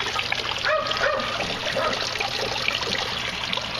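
Water pumped out into an aquaponics tank trickles and splashes steadily and close by, a continuous watery patter with no talking.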